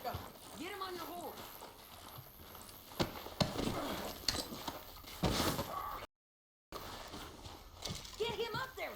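Horse hooves clip-clop at a steady gait in Red Dead Redemption 2, moderately close, beneath urgent shouted dialogue between characters, with a brief dropout partway through.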